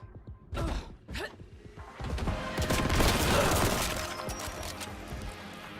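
Renegades fire plasma guns in a video game demo: two sharp, crackling blasts ring out, then a longer, swelling roar of rapid energy fire with clanking and shattering that fades toward the end.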